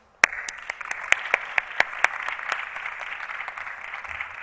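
An audience at an economics prize lecture applauds to welcome a speaker, with scattered sharp claps over a steady wash of clapping that begins abruptly and continues at moderate volume.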